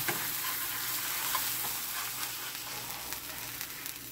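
A burger patty sizzling in a hot skillet, giving a constant, even frying hiss with faint crackles for a few seconds and no voices.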